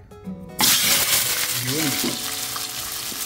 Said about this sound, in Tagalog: Sa mainit na palayok na may mantika, first ay itutusta muna natin yung mga gulay natin.